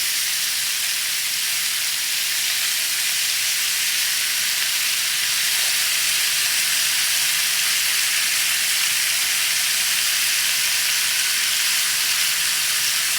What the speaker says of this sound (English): So they're kind of searing and frying